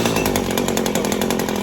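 A scrapyard grass cutter's small two-stroke engine revs as the throttle is pulled, a loud, steady buzzing drone with a fast rattling pulse, close and continuous with no talk.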